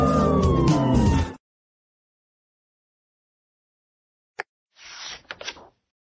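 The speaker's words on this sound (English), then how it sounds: "And police sirens say..." A loud, harmonic police siren tone from a children's cartoon sweeps for just over a second, then silence, a sharp click, and a few brief scraping knocks.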